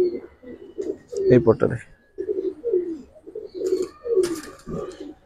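Giribaz and colored pigeons coo repeatedly in a loft, close and clear, with soft throaty calls in a steady series. Someone speaks briefly over them.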